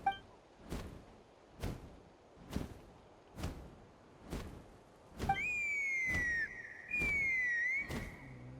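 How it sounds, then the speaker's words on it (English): A sustained whistle in the game Genshin Impact sounds partway through, following a regular series of dull thuds spaced about a second apart that continue underneath. "That sounded like a whistle."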